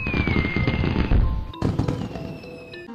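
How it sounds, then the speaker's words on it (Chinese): Fireworks in a Plants vs. Zombies game trailer: dense crackling bursts and thumps over a music bed, then a sharp break and a second string of booms and sparkles fading off. "开篇就是放烟花"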